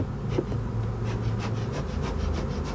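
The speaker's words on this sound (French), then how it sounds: "Les abeilles sont élevées dans des ruches depuis l'Antiquité." Honeybees hum steadily around beehives in the countryside, a continuous low drone with faint rubbing noises and no voices.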